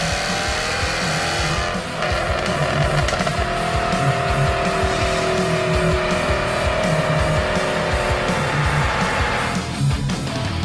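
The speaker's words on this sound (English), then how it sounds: "Accelerating on the chamber's rolling road, the sounds made by the engine and exhaust are fine-tuned." A Jaguar F-Type accelerating on a rolling road inside a test chamber, its engine and exhaust giving a loud, continuous rising drone with a strong low rumble and a tonal whine, steady and close throughout.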